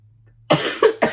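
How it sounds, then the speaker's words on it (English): A person who is sick coughs three times, close and loud, in quick separate bursts after a moment of quiet. "Too much talking makes me cough."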